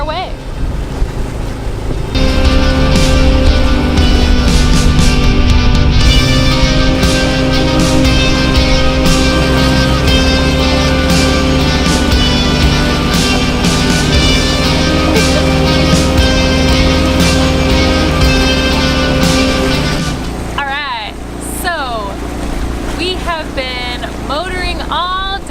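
A boat motors along the Illinois River between Joliet and Ottawa, its engine a loud, steady drone with wind and water rush throughout, easing off near the end as a voice speaks.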